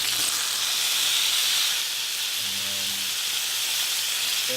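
Steak sizzling in olive oil in a heated skillet, a steady loud hiss and crackle of frying fat filling the whole clip close up, with no voices.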